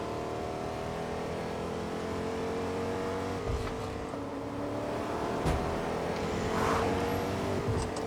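A car driving steadily through Fortnite, its engine a continuous hum with rising and falling pitch as it rounds a bend, joined by brief knocks and bumps, with no talk.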